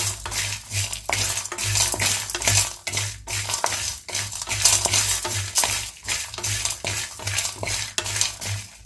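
Broad beans and peanuts are stirred together in a pan with a spoon, making rhythmic scraping and clinking strokes against the metal, each lasting roughly a second, with a light frying crackle underneath and no speech.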